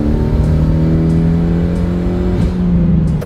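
A turbocharged Mitsubishi Evo 8 running 36 psi boost revs hard through a dyno-style pull from 3,000 to 7,000 rpm, its loud rising engine tone climbing steadily before a sudden drop near the end.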